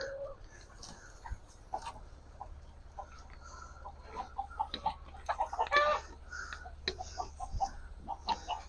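Scattered clucks and squawks from several chickens, fairly close, with a brief louder burst of calls midway over a steady low background hum.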